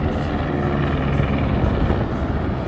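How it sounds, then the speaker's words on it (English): A helicopter over Las Vegas at night: a steady, loud rotor and engine drone holds evenly throughout with no talking. "Oh, helicopter time."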